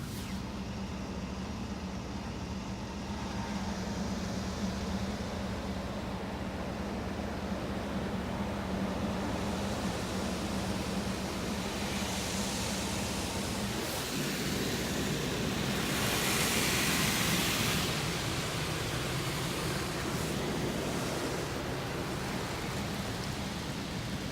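Rinse cycle of a Mark VII ChoiceWash XT automatic car wash at a Shell station in Bradford, a continuous dense rush of spraying water drumming on the car, steady and close throughout with a slight swell later on.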